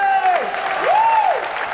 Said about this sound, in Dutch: Geef hem alvast een applaus